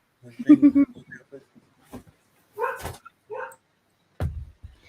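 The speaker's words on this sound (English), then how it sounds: "Hang on, my dog." A dog makes short barks and yips indoors during a livestream, several sharp bursts spread over a few seconds, close and fairly loud, mixed with a person's talk.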